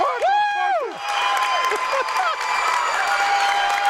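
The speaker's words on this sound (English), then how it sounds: "Green Wave crowd is going crazy" A home crowd at a high school boys basketball game, Green Wave vs. Norwell, erupts after a buzzer-beating three-pointer to end the first half, with loud cheering, shrill whoops and clapping that stay lively and dense throughout.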